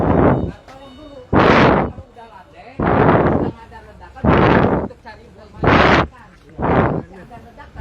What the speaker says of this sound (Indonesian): masih terdengar suara ledakan dari lokasi kebakaran